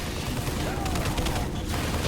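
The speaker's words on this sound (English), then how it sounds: "So the machine gun turret does prove incredibly useful for these" Rapid, dense bursts of a machine gun turret firing in the Halo 3 video game, loud and continuous beneath a voice talking over the gunfire.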